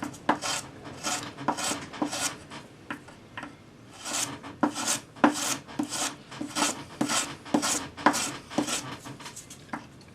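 Sanding a solder join on a metal ring with a sanding stick gives repeated short, close scratchy strokes in a steady back-and-forth rhythm, quiet and alone.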